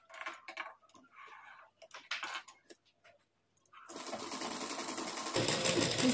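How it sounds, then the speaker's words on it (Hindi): Sewing machine stitching along the edges of fabric for a blouse latkan, starting after a few seconds of quiet talk and running as a steady, close, continuous whir that grows louder near the end. "यहाँ से किनारे किनारे सिलाई लगाएंगे"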